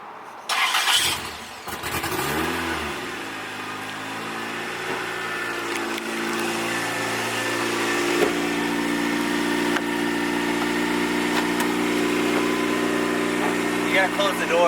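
A turbocharged Toyota MR2 engine starts with a rough burst, then settles into a steady, loud idle with a low, even hum and slight rises in pitch.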